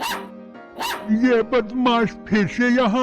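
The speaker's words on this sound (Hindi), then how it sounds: "ये मोटा कुत्ता भौंक रहा क्या है।" A cartoon dog barks in quick, yapping bursts that bend in pitch, loud and close, running alongside a character's spoken line.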